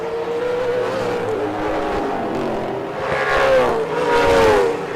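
Chevrolet Camaro race car lapping Sandown International Raceway in a Victorian State Race Series round, engine note holding steady then swelling louder as it passes close, with a falling whine as it goes by.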